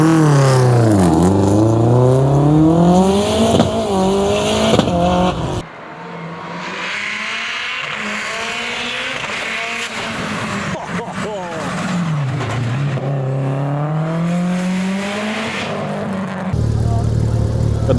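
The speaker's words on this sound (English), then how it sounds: "Got the Porsche GT3. Give the ears a workout, that did." A Porsche GT3 tarmac rally car roars past at close range, its engine pitch sweeping up and down through loud revs, with a second pass following a quieter gap.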